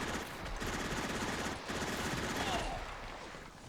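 Gunfire in the Sudden Strike 2 World War II strategy video game: a dense, continuous rattle of rapid shots at a moderate distance, running steadily under a voice.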